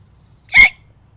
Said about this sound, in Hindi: बहू बोलने ही जाती है कि जोर से हिचकी आ जाती है।